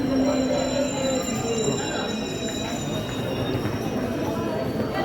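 Train pulling into a station with metal wheels squealing in a sustained high screech over a loud, steady rumble of rail cars, close and noisy throughout.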